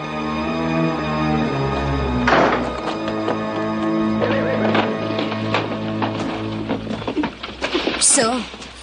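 A horse neighs loudly and its hooves clip-clop, with shouting voices and busy movement around it.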